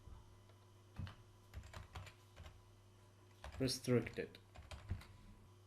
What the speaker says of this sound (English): So we'll type SNMP server